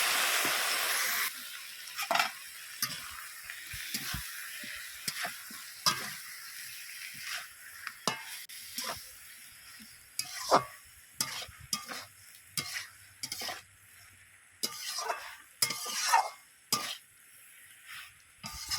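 Mustard, poppy seed and cashew paste being stirred through mixed vegetables in a pan, a spoon scraping and clinking against the metal in repeated strokes over a soft, steady sizzle, close and fairly quiet.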